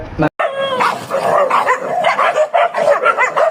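A man imitates a dog, giving a string of quick yelping barks and whimpers in his voice, close and loud.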